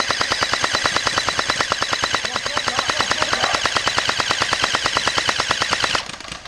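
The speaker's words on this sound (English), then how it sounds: "Get some fire down, Ross." Airsoft guns fire BBs in a fast, even burst of sharp snapping shots lasting about six seconds, close and loud, then stop abruptly.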